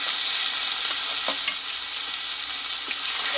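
Garlic paste, ginger paste, dry chili-cumin paste and onion paste frying together for a Bengali mutton curry, giving a steady, loud, continuous sizzle with faint stirring scrapes and no voices.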